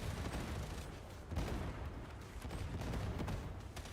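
Autogun fire in Warhammer 40k Darktide: rapid, repeated gunshot bursts with rumbling impacts, fairly faint and distant within a busy battle mix, with no talking.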